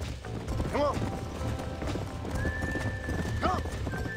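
Horses in the video game Red Dead Redemption, with a steady clip-clop of hooves running throughout and two distinct neighs, one early and one near the end, against a background ambience.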